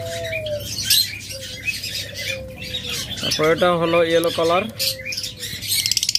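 Pet lovebirds and budgerigars for sale call from their cages, with a loud harmonic squawk in the middle and scattered chirps around it, while someone talks over them.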